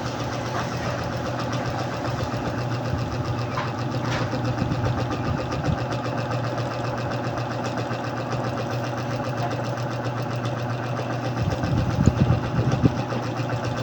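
Up close, a Yamaha Mio Soul i 125 scooter engine idles steadily with a rapid ticking chatter over a low drone, holding even for a long stretch with a slight swell near the end.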